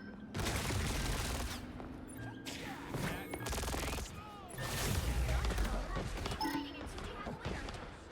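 Rocket Raccoon's rapid gunfire in Marvel Rivals, dense bursts of shots and explosive impacts crashing continuously across the scene, mixed with game effects and battle noise.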